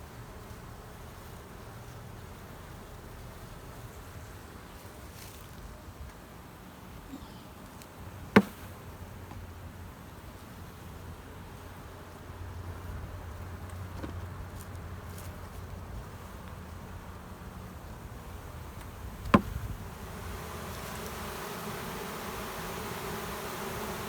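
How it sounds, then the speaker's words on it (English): A steady low buzzing drone of a bee swarm outdoors, continuous and fairly faint, with a couple of sharp clicks breaking through. "Bees, when they're swarming, are very gentle unless you mash them or squash them up against a limb"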